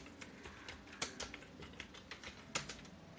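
Keys clatter on a computer keyboard during office software typing practice, a sparse, uneven run of soft clicks with a few sharper strikes, close and quiet, with no speech.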